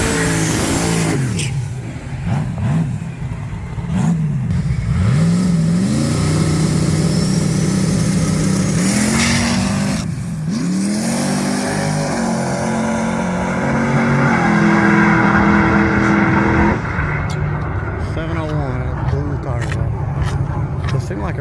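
A race car engine at a test and tune night at Octane Nights revs and roars loudly and close, pitch rising and falling through several pulls, with people talking over it.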